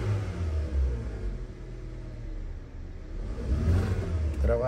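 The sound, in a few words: 2016 Kia Soul engine running after misfire repair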